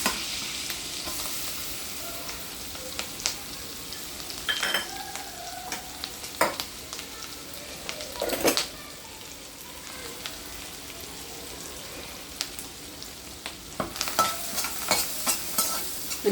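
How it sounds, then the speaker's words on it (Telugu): Shallots and green chillies fry in hot oil in a pan, a steady close sizzle broken by scraping stir strokes that grow busier toward the end. "చిన్నుల్లిపాయలు, పచ్చిమిర్చి ఇవన్నీ వేసుకొని బాగా ఫ్రై చేసేసుకుందాం."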